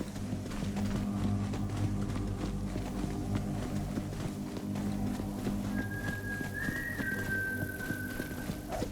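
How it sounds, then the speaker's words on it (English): A single whistled note drifts in briefly over a soft bed of ambient Borderlands 3 game sounds and muffled hoofbeats, faint and somewhat distant. "Someone was whistling."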